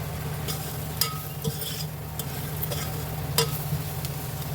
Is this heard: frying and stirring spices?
yes